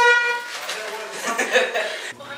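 A loud, harmonic air horn blast sounds right away and then fades under excited voices and chuckling.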